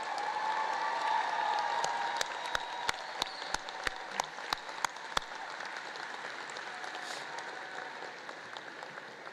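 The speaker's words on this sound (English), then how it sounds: "Let's give them a rousing round of applause." Audience applauding teachers, counselors and staff standing at a high school commencement in a large venue, a steady wash of clapping with a row of sharper, louder individual claps standing out midway, then thinning toward the end.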